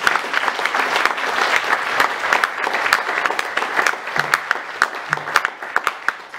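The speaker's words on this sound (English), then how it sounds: "Let's clap." An audience at a grassland science symposium applauds a panel with lively, close clapping. It stays strong at first, then thins into scattered individual claps toward the end, and a couple of brief voices show through.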